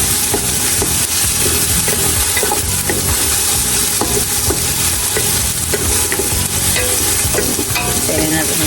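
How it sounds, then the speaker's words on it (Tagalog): Vegetables for pinakbet sautéing in a hot pan, a loud continuous sizzle and frying hiss with stirring scrapes throughout, close and steady, no talking. "Ginigisa ho natin yan."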